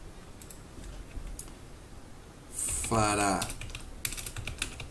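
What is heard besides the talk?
typing on a computer keyboard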